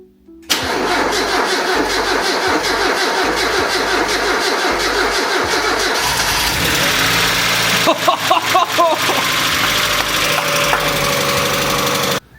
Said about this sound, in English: We'll try to run this engine.